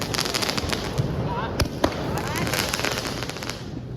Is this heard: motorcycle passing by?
no